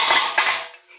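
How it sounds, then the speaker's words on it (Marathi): A plate clatters as it is set over a cooking pot of simple potato curry to serve as a lid, giving a short, close metallic clink followed by a fading ring. "प्लेट झाकणार आहे मी आणि असं प्लेट झाकून ठेवायचा"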